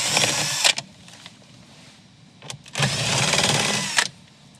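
A cordless drill with a 7mm socket backs out bolts holding trim paneling on a 2012-2019 Ford Fusion, two loud whirring bursts separated by a quieter pause.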